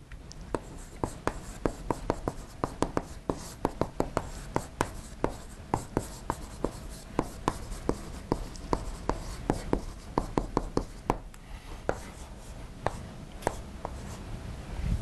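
An equation is written out during a microfluidics lecture, with a steady series of quick, crisp writing strokes and taps close by, without talk.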